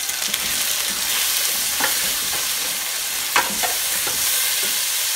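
Tomatoes and onions frying in a pan, a constant close sizzle with occasional sharper pops and stirring scrapes throughout.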